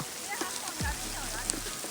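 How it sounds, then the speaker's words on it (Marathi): Steady rain patters across the clip, a soft constant wash of drops with a low hum beneath and a few voices speaking quietly over it. "पाऊस असा प्रॉपर चालू झालाय ना एकदम"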